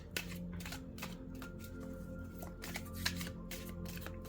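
Tarot cards shuffled by hand, a continuous soft riffling and sliding of card stock with small flicks, close and quiet, no voice over it.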